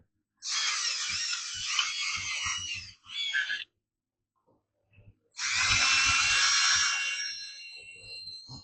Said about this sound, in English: taking a wire wheel over the bottom of the case of the block